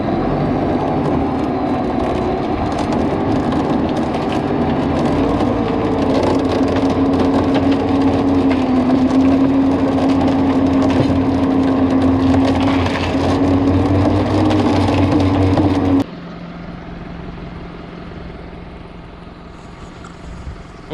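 A tractor engine strains steadily while winching out a partly attached tree stump during tree felling, a loud continuous drone with a rising pitch that suddenly drops to a quieter idle near the end.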